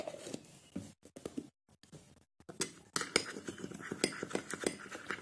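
A spoon stirs honey into a face paste in a bowl, giving a run of light clinks and scrapes against the bowl that become steady and rhythmic after a few quiet gaps, close and moderately loud.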